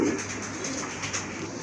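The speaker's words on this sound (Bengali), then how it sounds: "এক জোড়া শৌকিং কবুতর আছে এখানে, অনেক বড় সাইজের কবুতর" Large show pigeons, a pair kept for sale, cooing softly and steadily at close range, with low throaty murmurs running through the whole moment and no talking.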